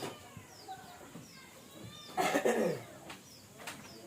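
Chickens cluck and squawk close by, with a sharp burst of flapping or agitated calls midway and scattered chirps throughout.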